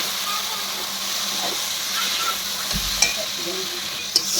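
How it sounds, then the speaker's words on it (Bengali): Taro stolon curry sizzling in a pan as it is stirred near the end of cooking, with a continuous hiss of frying and a few light scrapes and clicks, close by. "একটু ভালো করে নাড়াচাড়া করে নিচ্ছি।"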